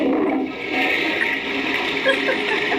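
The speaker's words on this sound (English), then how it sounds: "And if you can't tell, that's a toilet flushing." Toilet flushing in a short burst: a loud, steady rush of water, close and alone, with no talk over it.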